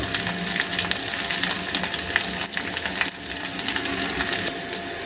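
Steady crackling sizzle of tempering spices and asafoetida frying in hot oil, close and continuous, with occasional sharper pops and no talking.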